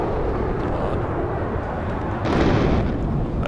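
A high explosive strike detonates in the real-time strategy game Warno, a loud sustained rumbling blast that swells again partway through, with aircraft noise in the mix.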